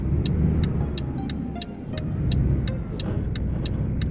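A truck engine drives in Euro Truck Simulator 2, a constant low rumble carrying a regular, crisp ticking that repeats evenly throughout, with no voices.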